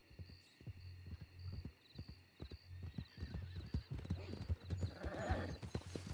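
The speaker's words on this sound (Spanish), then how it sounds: "¿Es un caballo?" Horse hooves clip-clop in the RedM video game, a steady run of close, distinct hoof strikes over a low droning hum, with an occasional whinny.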